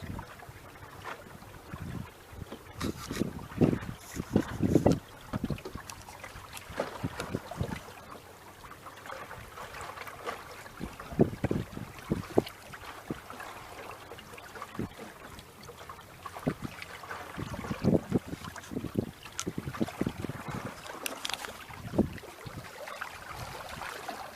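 Wind buffets the microphone over water rushing along a hull, with irregular gusts and splashes as a small sailing boat runs steadily downwind with all sails up.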